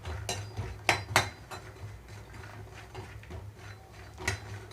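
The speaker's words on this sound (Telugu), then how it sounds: "నెయ్యి అంతా వేడైన తర్వాత ముందుగా ఫుల్ మక్కనా వేసి వేయించుకుంటున్నాను" Phool makhana (lotus seeds) roast in ghee in a pan while a spatula stirs them, making close metallic clinks and scraping clatter in an irregular rhythm over a faint frying bed, with no talking.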